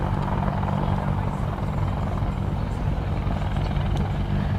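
An Army Air Corps Apache attack helicopter flies at the Cosford Airshow, its rotors producing a steady, loud, throbbing drone with a low beat, while a voice talks over the noise.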